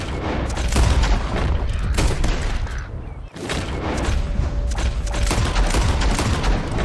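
Rapid gunfire, a burst of shots aimed at birds flying overhead in the Red Dead Redemption 2 video game, fired loud and close almost without pause, with one brief lull partway through.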